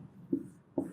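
A pen writes a definition during a physics lesson, giving two short scratching strokes close to the microphone in a quiet room.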